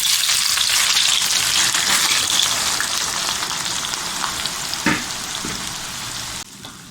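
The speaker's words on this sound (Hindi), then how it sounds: "और इसी में प्याज लाल करनी है" Onions fry in a generous amount of oil until browned for haleem, a dense, close crackling sizzle that fades slightly over time, with a couple of stirring knocks.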